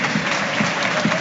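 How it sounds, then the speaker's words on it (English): Football crowd at Dens Park, Dundee, applauding during a Dundee v Celtic match, a steady dense wash of clapping from many hands throughout. "Dundee fans, some of them getting to their feet as Simon Murray applauds three corners of Dens"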